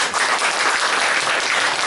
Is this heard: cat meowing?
no